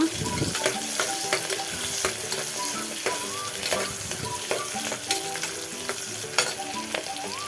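Two thick sliced onions frying in a pan for ghee rice, a steady close sizzle broken by repeated scrapes and clicks of stirring.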